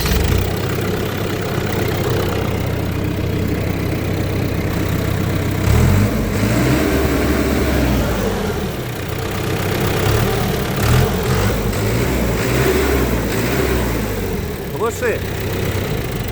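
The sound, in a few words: Hidromek 105 backhoe loader engine started and idling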